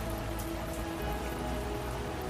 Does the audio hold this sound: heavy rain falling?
yes